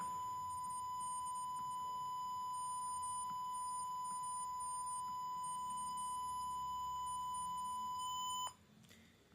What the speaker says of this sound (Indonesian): barusan buzzernya itu menyala